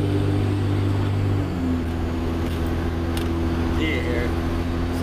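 A turbocharged car engine idles close by with a steady low hum and whine, dropping slightly in pitch partway through, continuous and moderately loud inside the car.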